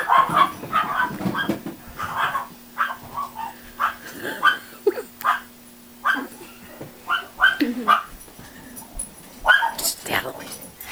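A dog whimpers, yips and barks in short excited bursts at a mailman arriving at the house, with people talking and urging it on throughout.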